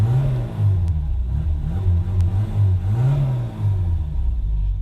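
A warm 1.6-litre engine in a Mk1 Ford Fiesta XR2 revs in neutral through an open window, several throttle blips rising and settling in a close, rumbling rhythm.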